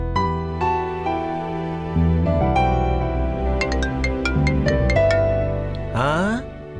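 Mobile phone ringtone playing as a bright electronic melody of rising and falling tones, fairly loud and close, ending in a quick ascending sweep, with no talk over it.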